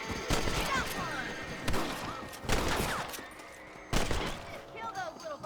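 Rapid gunshots from a Western video game, a burst of several cracks in the first seconds followed by a couple more spaced shots, with a voice talking over the gunfire.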